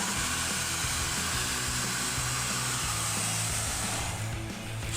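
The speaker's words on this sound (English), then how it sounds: "I have my industrial version of the heat gun here." An industrial heat gun blowing on shrink tubing during a rear-view camera install on a Silverado 1500: a constant, loud, close whooshing roar of air with a steady fan hum throughout.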